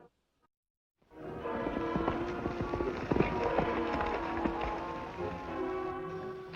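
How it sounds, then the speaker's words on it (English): A horse galloping at full speed, its hooves pounding steadily beneath orchestral music from an old Western adventure series, a loud continuous run from start to finish. "A fiery horse with the speed of light, a cloud of dust"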